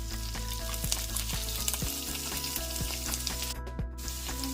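Onion, curry leaves and asafoetida fry in oil and butter, giving a steady close sizzle with scattered crackles and light stirring taps.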